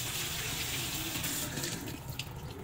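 Vegetables for a Visayan law-oy soup being washed under a running kitchen tap, a steady close rush of water with faint splashing and handling throughout.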